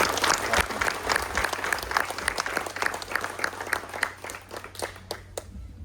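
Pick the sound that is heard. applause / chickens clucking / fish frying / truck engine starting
applause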